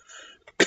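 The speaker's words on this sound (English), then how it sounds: "My cough is acting up." A single short, harsh cough bursts out near the end, preceded by a faint breathy throat sound.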